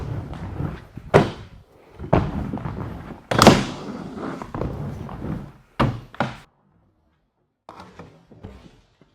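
Aggressive inline skates strike and grind along the metal coping of a skate ramp in a run of hard, close thunks and scrapes, with short pauses between hits and a quieter tail of scuffing at the end.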